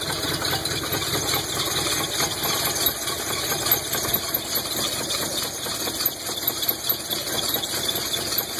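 A 1985 Subaru GL wagon 4WD engine idles roughly while cold, with a continuous uneven mechanical chug running steadily throughout, close up and without speech.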